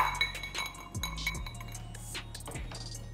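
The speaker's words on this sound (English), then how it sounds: "Ice cubes." Ice cubes clink and knock into a rocks glass while a Jungle Bird cocktail with Campari and rum is being made, several sharp close clinks over a low hum.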